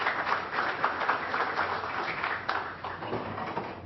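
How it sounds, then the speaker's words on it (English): Audience applause fills a county commission meeting room, a dense, steady wash of many hands clapping at moderate loudness with no talk over it. "try and control our applause for these events"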